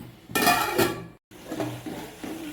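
Ridge gourd and tomato curry being stirred in a pot, with loud scraping and clanking of a utensil against the metal, then a short pause and softer clinks and shuffling as a lid goes on.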